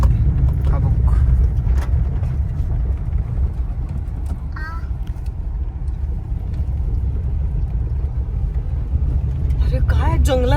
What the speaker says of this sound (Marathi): गाडीचा आवाज पोहोचला ना पण त्यांच्यापर्यंत